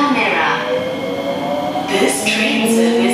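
C151A train running on the Singapore MRT Circle/East-West line near Tanah Merah, a steady loud rumble of motors and wheels with rising tonal whine, heard from inside the carriage alongside announcement speech.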